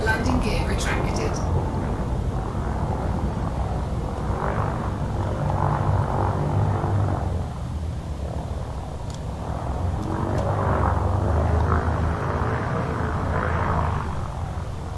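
Spaceship lifting off in the space game Elite Dangerous, a steady loud engine roar and hum rising and swelling over about fifteen seconds, with a brief burst of higher noise at the start.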